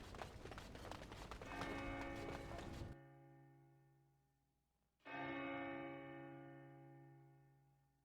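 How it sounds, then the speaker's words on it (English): Church bell tolling in Dragon Age Origins, two deep resonant strikes a couple of seconds apart, each ringing out and slowly fading after a noisy stretch at the start. "The bell tolls."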